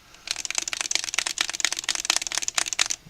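Rapid clicky keystrokes on a Lumiere mechanical keyboard with stock keycaps, close and crisp in irregular bursts of typing with brief pauses, no talking.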